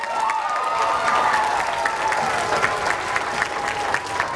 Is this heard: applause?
yes